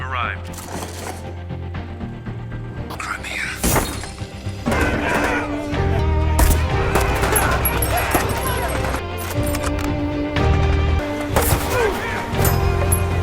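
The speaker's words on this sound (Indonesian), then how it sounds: "Revan kemudian membidik Kapten Rusia yang selanjutnya baku tembak pun terjadi." A gunfire exchange between Ukrainian troops and a Russian captain in a war film, with repeated sharp shots and crashes over a dense, loud soundtrack, while a voice speaks throughout.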